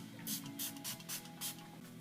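Milani Make It Last setting spray misted in several quick, soft hissing spritzes, close and fairly quiet, with no talking.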